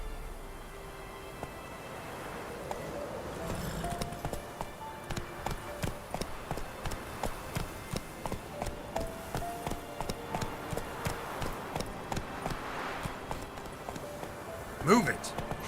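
Roach the horse gallops in The Witcher 3, hooves clopping in a steady, even rhythm for most of the stretch at moderate distance, with voices and game sounds layered over them.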